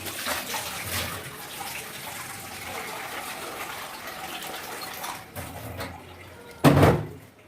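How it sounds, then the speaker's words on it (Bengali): Chopped pumpkin, potato, eggplant and onion being washed with water in a kitchen, a continuous rushing splash and swirl of water, ending in a louder burst of splashing near the close. "সবজিগুলো এখন আমি এই যে ভালো করে ধুয়ে নেব জল দিয়ে"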